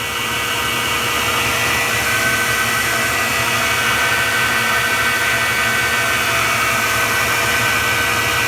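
Burr King Model 760 bench top grinder motor running steadily at speed, a continuous high-pitched whine with an even hum, constant and close throughout.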